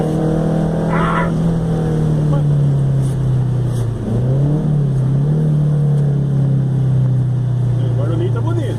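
A Chevrolet Chevette 1.6 S with a 4x1 header drones loudly and steadily, its engine note dipping and climbing as it revs, with a voice faintly audible over the exhaust.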